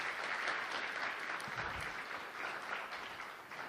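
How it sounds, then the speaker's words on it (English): Audience applause follows a presentation at an alumni association reunion seminar on health care, a steady, sustained wash of many hands clapping that holds its level throughout, with no speech over it. "let's give him one more round of applause"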